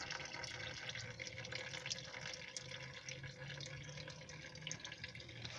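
Motor oil draining steadily out of a 2003 GMC 2500 HD truck, a continuous close trickling and splashing of liquid with no pauses and no talking.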